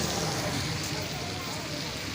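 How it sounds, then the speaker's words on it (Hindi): Heavy rain pours steadily in Taxila under dark storm clouds, a dense, even hiss that continues without a break for the whole stretch. "लेकिन फिर भी बारिश लगी हुई है"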